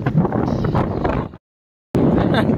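Wind ahead of incoming rain blusters loudly against the microphone, cutting out abruptly for about half a second before the steady rushing resumes.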